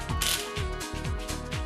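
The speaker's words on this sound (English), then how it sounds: "always tighten 4 bolts first in a crisscross pattern." Bolts being tightened with a ratchet on a Bajaj Pulsar NS 200 motorcycle's cylinder head, a close run of quick repeated ratcheting clicks in a steady rhythm.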